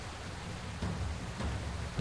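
Steady rain falling in a video game during a muddy outdoor turn-based match, a soft continuous hiss with a couple of slightly louder gusts, no voices.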